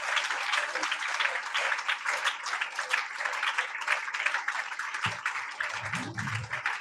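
A church congregation at a Sunday meeting claps together in a steady, moderately loud burst of applause lasting throughout, with a brief low murmur near the end.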